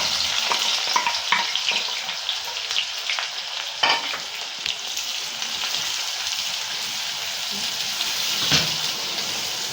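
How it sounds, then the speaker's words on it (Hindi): Onions frying in hot ghee for chicken nihari, a dense, steady sizzle and crackle close up, with occasional louder stirring scrapes in the pan and a voice briefly heard underneath. "घी गर्म हो चुका है, उसमें प्याज डाल के रेड करेंगे।"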